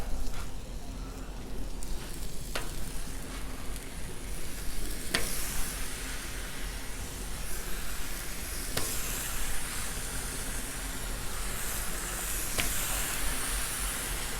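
Sausage and thick-cut bacon sizzle on a 36-inch Blackstone griddle, a dense continuous crackling hiss close up, with a few sharp clicks of a spatula now and then.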